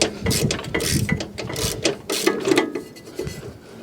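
A ratchet tool undoing a bolt on a Fiat 500 Abarth, loud close rapid clicking strokes in repeated bursts with metallic rattles between them.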